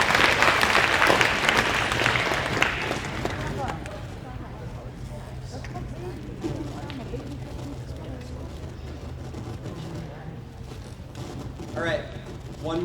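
Audience applause at a middle school prize day ceremony honoring academic distinctions, loud and sustained at first, then fading into a lingering crowd murmur and scattered claps.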